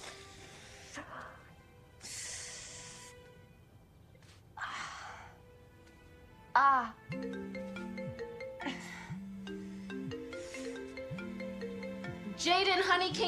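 A mobile phone ringtone chirps and trills in short repeated bursts at home, fairly faint at first and then more insistent, with a tonal melodic pattern repeating under household sounds and brief breaths.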